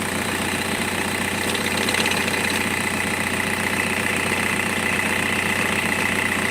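A vehicle engine idles with a steady low rumble and a faint repetitive knock ticking through it, close and continuous with no talk.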